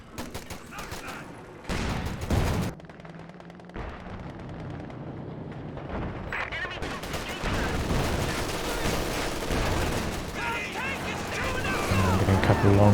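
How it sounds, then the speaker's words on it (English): Long-range tank gun shots at Panzer IVs in Company of Heroes 2, with booming cannon reports and crackling gunfire over a busy battlefield rumble, growing denser and louder toward the end. "getting a couple of long range shots on the Panzer IVs here"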